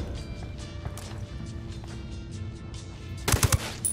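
Gunfire in the video game Ghost Recon Wildlands: a short, loud burst of several rapid shots near the end, after a stretch of quieter ambient game sound.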